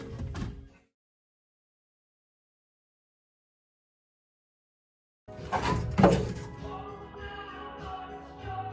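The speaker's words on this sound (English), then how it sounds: "Maybe I might as well open this door up." The door of a 1968 Chevrolet Chevelle is worked open during interior removal: a short clunk, a stretch of silence, then a loud close latch clack and rattling creak of the opening door.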